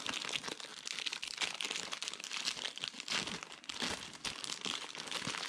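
A 2019 Bowman Draft super jumbo trading card pack wrapper is torn open by hand, a continuous close crinkling and crackling of foil that runs unbroken for several seconds, with no talk.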